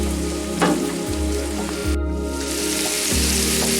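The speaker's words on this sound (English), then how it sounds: "I will at the same time continue to saute the onions" Onions sautéing in a pan for a liver pâté, a steady close sizzle and crackle with light scraping or stirring touches throughout.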